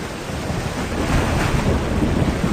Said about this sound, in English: There are big waves on the sea.